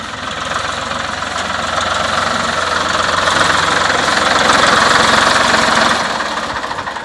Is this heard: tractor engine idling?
yes